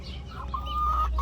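Indian chicks and a hen make soft, brief clucking and peeping calls, faint and close, with a quiet low rumble underneath.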